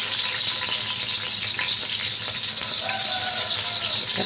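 Garlic frying in hot cooking oil for pancit, a steady close sizzle with faint clinks and a few high squeaks from the pan throughout, no voices over it.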